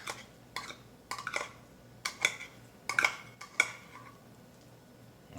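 A spoon scoops spicy tuna into hollowed zucchini halves, giving several light clinks and scrapes against the dish, close and fairly quiet, spread unevenly over a few seconds with no talking.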